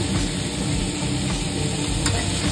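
Cut potato and radish with salt, cumin powder and coriander powder sautéing in hot oil for a simple potato-radish curry, a steady close sizzle with faint scraping of stirring and no voices.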